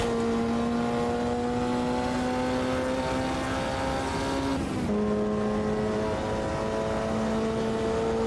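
A Lotus 51 race car in the Automobilista 2 sim at Willow Springs holds a steady, loud engine drone. The pitch dips briefly as it shifts down to third under light braking, then settles at a slightly different note.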